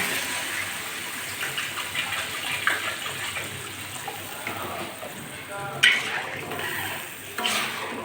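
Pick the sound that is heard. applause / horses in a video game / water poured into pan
water poured into pan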